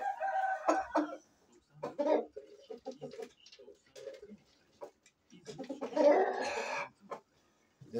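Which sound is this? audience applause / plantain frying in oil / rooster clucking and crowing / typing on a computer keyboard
rooster clucking and crowing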